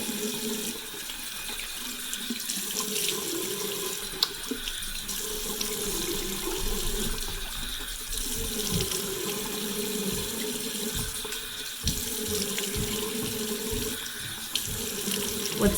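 A bathroom faucet runs steadily while face cleanser is rinsed off, a continuous close splashing water stream with small irregular splatters, no talking.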